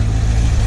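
A 2013 Corvette 427 convertible idles with its exhaust valves open, giving a loud, steady, deep rumble close up with no break.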